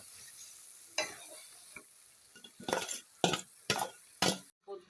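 Fried vegetables stirred into cooked mung and masoor dal in a pot; several separate scraping, splashing strokes of a spoon, close and moderately loud, with quiet gaps between them.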